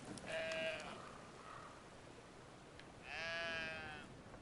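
Sheep in the Brothers video game bleat twice, two short wavering calls a few seconds apart over a quiet outdoor ambience.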